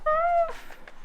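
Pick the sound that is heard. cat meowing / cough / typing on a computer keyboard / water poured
cat meowing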